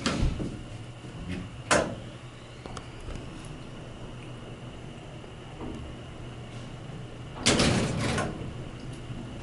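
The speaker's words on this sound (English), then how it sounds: "don't press the button yet until the door closes." Elevator door in Cheatham Hall at Virginia Tech sliding shut, with a clunk early on and a louder rumbling thud near the end, over a steady low mechanical hum.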